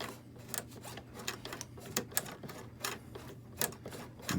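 A sewing machine stitches through heavy Carhartt strap fabric in a dense, rapid run of clacking needle strikes, close and steady for several seconds without speech.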